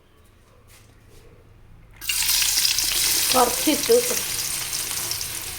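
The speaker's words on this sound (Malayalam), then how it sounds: "ഇതാണ് ആ എണ്ണയിലേക്ക് ഇടാൻ പോണേ കേട്ടോ" Mango ginger pieces dropped into hot oil for pickle, a loud sudden sizzle that bursts in and keeps crackling steadily, with a brief spoken word just before.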